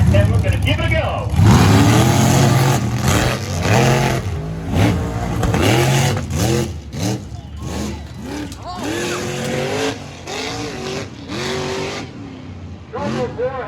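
Monster truck engines at Lebanon Valley roar and rev loudly, with repeated surging accelerations and rising whines beneath an excited commentator talking throughout.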